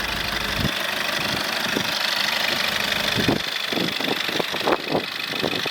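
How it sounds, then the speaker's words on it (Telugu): A 2019 Maruti Ertiga VDI diesel car engine idles steadily up close with a smooth, even rumble, joined in the second half by a run of light rhythmic tapping clicks. "ఇంజన్ కూడా చూడవచ్చు, చాలా స్మూత్గా ఉంది,"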